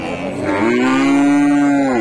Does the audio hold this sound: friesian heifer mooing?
yes